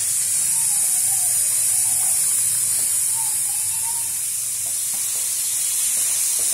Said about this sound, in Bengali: এবার আমি হাই ফ্লেমে করে কিন্তু পেঁয়াজটাকে ভাজবো, খুব মানে গোল্ডেন কালার করে পেঁয়াজটাকে ভাজবো।